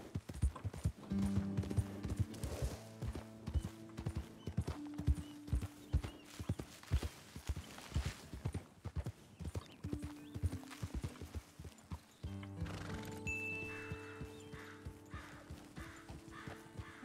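Horse hooves clip-clop steadily in Red Dead Redemption 2, a near, even gait that runs throughout with brief neighs and whinnies and soft game ambience behind it.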